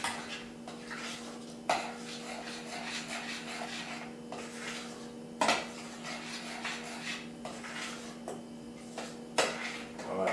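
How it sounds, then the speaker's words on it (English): A spoon scrapes and stirs through cheddar and Parmesan cheese in a pot of grits, with soft rubbing sounds and a few sharper knocks against the pot, close by and at a moderate level. "we just want to stir that in there so it blends good"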